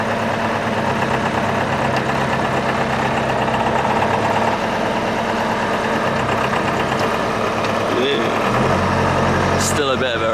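A sailboat's inboard engine idles steadily, a loud continuous mid-low chugging drone that dips slightly in revs near the end, with a brief clatter just after.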